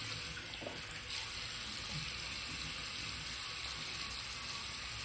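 Tap water runs steadily into a sink, a continuous close wash as the face is rinsed after a traditional wet shave with a Merkur 34c safety razor.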